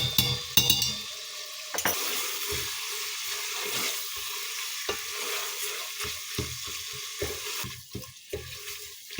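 Meat sautés in a pan with tomato paste and pepper paste for a Turkish chickpea stew, a constant close sizzle punctuated by sharp spoon scrapes and clinks against the pot, with no voices.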